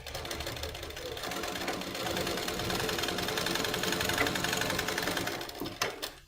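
A sewing machine stitches the corner of a collar neck on a blouse, with a steady rapid mechanical whirr that runs nearly nonstop up close and then halts with a few clicks at the end. No voices.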